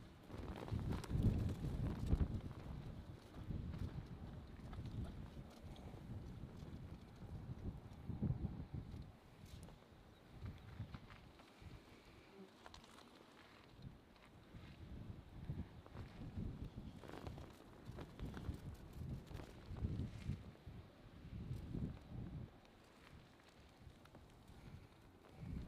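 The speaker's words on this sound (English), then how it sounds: "Yeah, just wind, just a little bit of a mist." Wind gusting against a microphone outdoors at the erupting Kilauea volcano in Hawaii, a steady low rumble with stronger buffeting bursts rising and falling throughout.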